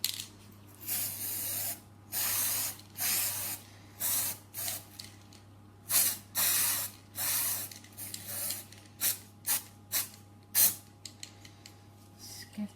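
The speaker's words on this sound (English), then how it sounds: "give them a spray" Edible gold colour sprayed from an aerosol can onto cake decorations for a unicorn cake, in short close hissing bursts, about fifteen of them, separated by brief pauses.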